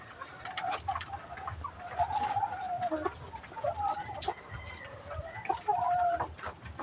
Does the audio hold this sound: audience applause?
no